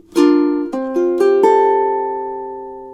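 A ukulele strums a few chords up close, four or five quick strokes that ring out and fade slowly, with no voices over it.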